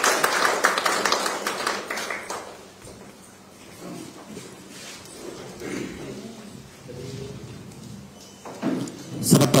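An audience applauding at a teachers' award ceremony, a dense burst of clapping that fades into quieter hall noise before a fresh round of applause rises at the end.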